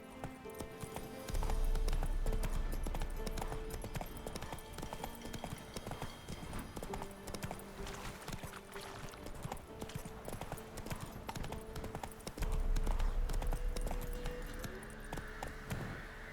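A horse gallops with rapid, rhythmic clip-clop hoofbeats in the Witcher 3 video game, loud and continuous under in-game music, with a brief whinny and faint talk.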